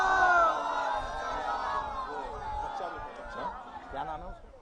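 Crowd at a religious celebration chanting salawat in unison, a swelling mass of voices with sustained, tonal recitation that rises and falls across the whole clip.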